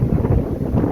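Strong gusts buffet the microphone at an abandoned railway station on the Bluebell Railway at West Hoathly, a continuous low roar that swells and dips throughout with no voices.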